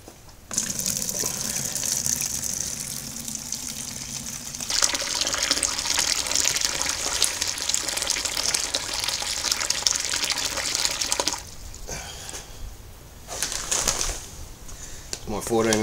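Hot water at nearly 75 degrees gushes steadily into a vessel for an all-grain Extra Special Bitter mash, about 14.5 litres poured. The stream is loud and close, then pauses and restarts near the end.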